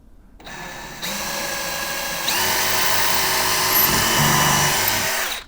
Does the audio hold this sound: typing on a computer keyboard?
no